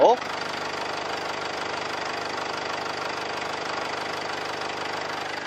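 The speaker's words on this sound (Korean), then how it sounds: "바로 엔진 소리 한번 들려드릴게요" A 2017 Mercedes-Benz G-Class SUV engine idles steadily, a continuous even rumble with a faint knocking texture, close by with the hood open and fairly loud throughout.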